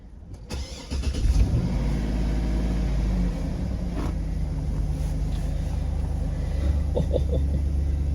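A car engine cranks and fires up, then settles into a steady, loud idle rumble heard from inside the car.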